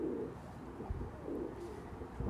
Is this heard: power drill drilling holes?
no